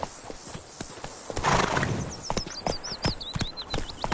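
Roach the horse gallops in The Witcher 3 with steady clip-clop hoofbeats and a whinny, close and loud, layered over a high chirping bird call.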